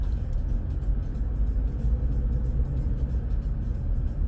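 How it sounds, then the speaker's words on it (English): Steady highway traffic heading into Baltimore, Maryland, rumbling as a continuous low engine and tire roar from inside a moving car, with no voices. "Traffic coming into Baltimore, Maryland."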